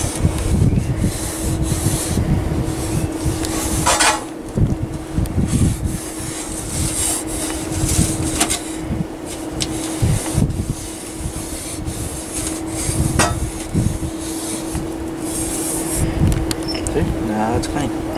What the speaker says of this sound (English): You could clean it off with your hand, like this, but it'll get hot. So that's why I use this little scraper.